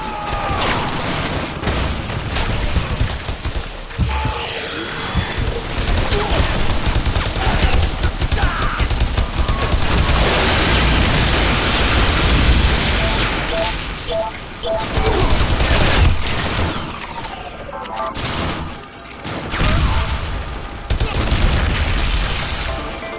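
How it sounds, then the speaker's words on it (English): Dense gunfire and repeated explosions from the shooter game Bodycount, with loud overlapping bursts, booms and automatic fire filling the whole stretch almost without pause. "there's explosions happening all over the place, people are dying left and right, loud gunfire"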